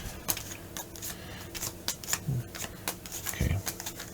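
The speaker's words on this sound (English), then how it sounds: "just got to shuffle these first." A deck of playing cards being shuffled during a Foundations of Rome cooperative board game session, giving repeated crisp riffling bursts in quick rhythm, close by, with some speech around it.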